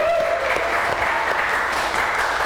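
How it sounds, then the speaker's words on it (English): Steady applause from an audience at an Age of Empires III esports LAN championship, dense clapping held at an even level throughout without a break, a faint tonal hum underneath at the start. "I think another round of applause for everybody at ESOC and all the work that's been going in on that project as well."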